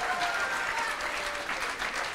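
A church congregation at a Sunday morning service applauds steadily and cheers, a dense wash of clapping with faint whistles and voices mixed in, sustained at moderate level throughout.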